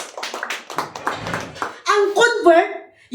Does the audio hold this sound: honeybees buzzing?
no